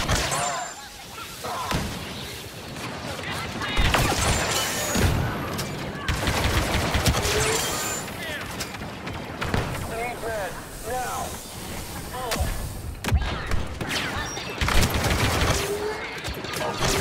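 Heavy weapon fire in Star Wars Battlefront 2, repeated volleys of loud blaster shots and explosive bursts rolling through a noisy battlefield, with voices speaking intermittently throughout.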